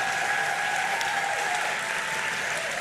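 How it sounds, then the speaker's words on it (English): A convocation audience applauds the graduating Master of Public Health cohort, a dense, steady wash of clapping from a sizable crowd that holds evenly for the whole stretch. "Let's please give a round of applause to our 2022 cohort one more time."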